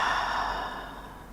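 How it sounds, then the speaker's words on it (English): A slow exhale through the mouth during a morning yoga flow, forehead resting on the floor: one soft, breathy rush of air that starts full and gradually fades away. "Exhale through your mouth."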